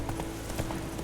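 A horse gallops in The Witcher 3, its rapid hoofbeats quick and rhythmic over a steady hum during one short burst.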